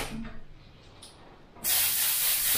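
An Iwata airbrush fed by a Smart Jet Plus compressor set to 30 psi, quiet at first, then a loud, steady spray hiss that starts suddenly and holds constant to the end.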